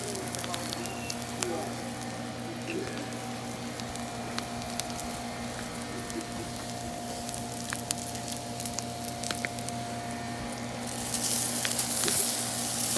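Sliced garlic sizzles in a hot pan, giving a steady quiet frying hiss with small pops. It gets louder near the end.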